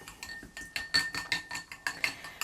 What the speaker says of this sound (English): I should probably rinse that paintbrush.